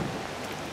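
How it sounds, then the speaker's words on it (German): Rain falling outdoors, a brief steady hiss of drops, close and even, with no voices. "Im Regen, von und zu, überhaupt Katastrophe."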